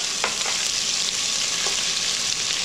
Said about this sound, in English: Now we are going to add 3 tablespoons of chopped ginger